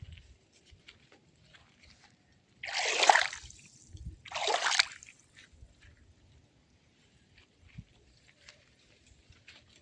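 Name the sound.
water flowing through a farm channel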